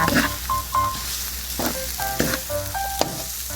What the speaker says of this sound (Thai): ำหน่อไม้ ดองนะคะ ที่เราเตรียมไว้ใส่ลงไปนะคะ แล้วก็ ผัดให้เข้ากันค่ะ